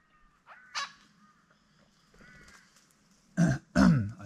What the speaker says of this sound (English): I think I've stolen this tree from the whole bunch of birds here.